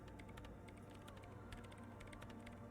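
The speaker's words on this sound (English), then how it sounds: "her hands typing hundreds of commands into the machine" Rapid keyboard typing of commands into a machine in Disco Elysium, a steady stream of quiet, crisp key clicks with no pauses, faint and alone.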